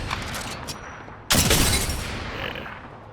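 Gunfire in the Apex firing range video game: a burst of shots breaks out partway through, loud and close, and its echo lingers after a quieter stretch of distant shooting at the start.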